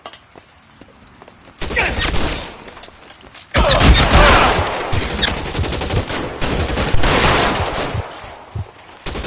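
Gunfire erupts in a shootout in the crime video game L.A. Noire, dense bursts of shots and rapid automatic fire ringing out loud and close after a brief quieter stretch, continuing with scattered cracks until the end.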